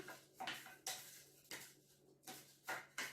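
Rice being stirred into marinade in a dish for an oven chicken and vegetable bake, a spoon scraping and clinking against the dish in about seven separate strokes, close and fairly soft, with no voices.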